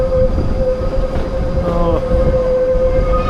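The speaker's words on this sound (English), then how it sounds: "this is the cog train" Matterhorn cog train in Switzerland running close by with a steady rumble and a sustained tonal whine, a brief higher squeal midway, with a short word spoken.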